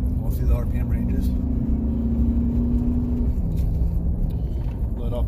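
A 2003 Chevy Suburban engine, running rich, held at a steady raised idle and revved slightly, a continuous low rumble and whir up close, with a voice talking over it.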